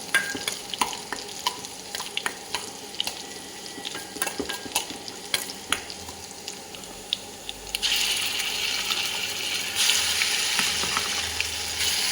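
Coriander paste frying with golden onions in an oily pan, a steady close sizzle broken by scraping stirs and light clinks, growing louder and hissier toward the end, with no talking.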